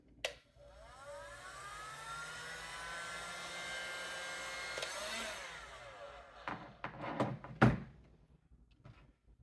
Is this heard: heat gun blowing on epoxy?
yes